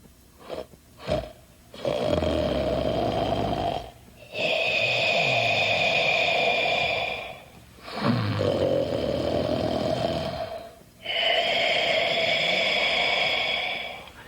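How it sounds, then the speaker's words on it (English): A giant's loud, rumbling snores fill the room in slow repeated cycles, each long rasping inhale followed by a quieter gap, heard alone and close. "the whole house shook with the sound of his snoring."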